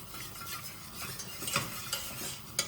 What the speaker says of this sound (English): You really have to whisk hard.